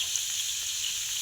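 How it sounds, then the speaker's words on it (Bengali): Potato and papaya pieces frying in a pan with turmeric and salt, a dense steady sizzle filling the short moment, close and fairly loud with no talking. "আলু আর পেঁপেটা আমি ভেজে নেব।"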